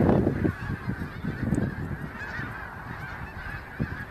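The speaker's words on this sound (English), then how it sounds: "that's pretty indicative of this species of goose or group of subspecies as well" A flock of geese in Kentucky honks repeatedly in overlapping calls, fairly close and steady over about four seconds, with no talking.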